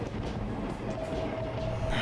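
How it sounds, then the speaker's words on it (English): Steady rumble of a moving train interior in the video game What Comes After, low and continuous, with a faint rhythmic rattle of the carriage. "I always have this cozy feeling about riding the last train."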